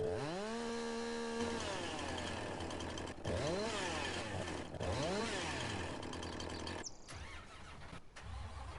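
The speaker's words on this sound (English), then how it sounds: "I'll pull out a chainsaw." Chainsaw in Farming Simulator 19, starting with a rising whine and then revving repeatedly in rhythmic swells over a steady idle, with a few brief cuts near the end, loud and close.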